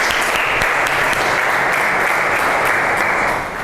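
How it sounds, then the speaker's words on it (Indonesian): A classroom bursts into loud, steady applause for three student groups after a religious studies lesson, continuous dense clapping that fades slightly at the end. "Tepuk tangan dulu untuk 3 kelompok ini"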